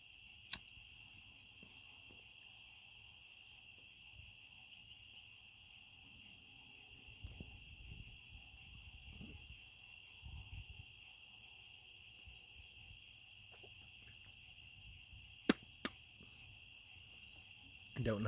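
Insects chirp in steady, high continuous trills outdoors at night, loud and unbroken, with frogs faintly in the low background and a few soft knocks and clicks nearby.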